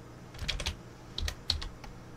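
Several computer keyboard keys are pressed at a desk, giving light, close clicks in small clusters with short gaps between, quiet against a soft room hum, without speech.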